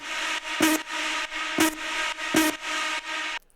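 A heavily distorted big room techno synth made in FL Studio, a loud buzzing sustained tone in chopped bursts, punctuated by three hard percussive hits in a club rhythm, alone without talk.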